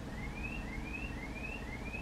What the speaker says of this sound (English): Someone's car alarm's just gone off.